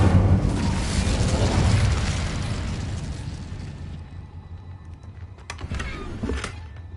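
An Incendio fire spell cast in Hogwarts Legacy erupts as a loud whooshing, roaring burst of flame that fades slowly over several seconds, followed by a few sharp crackles and pops near the end.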